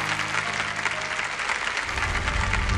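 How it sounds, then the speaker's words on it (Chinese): Sustained audience applause for a lecturer at a televised archaeology lecture on the Mogao Caves, a dense, steady wash of clapping throughout with no talk over it. "让我们再次把掌声送给张老师"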